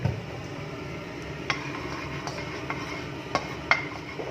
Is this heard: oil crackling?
yes